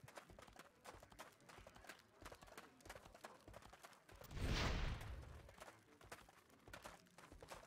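Rapid hoofbeats from a horse in Albion Online patter steadily and faintly under a game mix with quiet German voices, and a short burst of combat noise cuts in midway.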